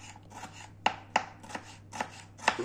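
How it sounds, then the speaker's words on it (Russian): A knife chops a small piece of bell pepper finely on a board: a series of about eight crisp, irregular cuts, a few louder strikes standing out, close and fairly quiet with no talk. "Очень мелко порежу"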